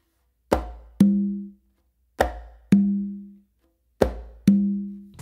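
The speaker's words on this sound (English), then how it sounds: "I'm just going to do another closed palm slap with my non-dominant hand on the conga" Three pairs of hand drum strokes on conga and tumba in a merengue pattern, each a sharp closed palm slap followed by a ringing open tone, evenly spaced, close and loud with no talking.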